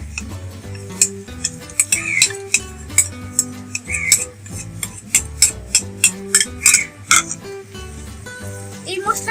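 In a pan of mixed onion and mustard paste for shorshe ilish, a metal spoon clinks and scrapes repeatedly as the spices go in and get stirred. The clicks are sharp and come at a regular pace over faint background sounds.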